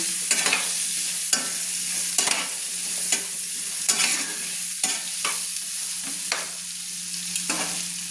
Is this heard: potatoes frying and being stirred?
yes